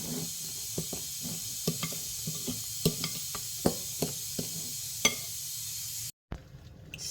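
Small pieces of banana fritter batter frying in hot oil, a soft continuous sizzle broken by repeated light clicks and taps of stirring, ending in a brief silence before the sizzle resumes.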